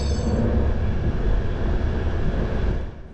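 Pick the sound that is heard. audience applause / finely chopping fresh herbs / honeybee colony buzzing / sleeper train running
sleeper train running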